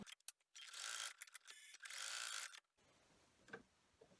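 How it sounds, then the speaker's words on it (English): Home sewing machine running two short tacking stitch lines on a fabric drawstring bag, two close bursts of steady mechanical whirring with a brief pause between, then a quiet stretch with faint handling. "we're going to take it back to the machine, and it's going to run 2 little lines here to hold this in place"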